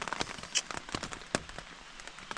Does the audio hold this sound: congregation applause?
no